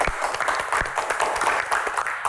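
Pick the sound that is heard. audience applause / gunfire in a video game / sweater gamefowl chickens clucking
audience applause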